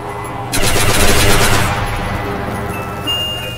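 Loud, rapid automatic fire from a Type 100 gun in World at War custom zombies, a dense burst of roughly a second that fades into a ringing tail.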